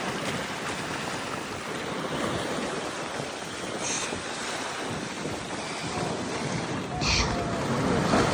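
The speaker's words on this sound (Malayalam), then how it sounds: "കടൽ ക്ഷുഭിതമാണ് ക്ഷുഭിതം തിരമാലകൾ ആർത്തിരമ്പുകയാണ്" A rough sea roars on the coast near Chaliyam during rain, a dense continuous wash of crashing surf and gusting wind noise, loud and unbroken, swelling slightly toward the end.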